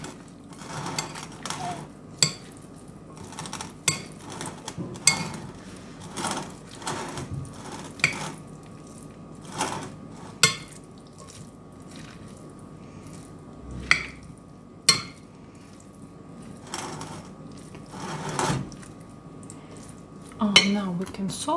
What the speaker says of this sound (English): finally, let's mix it all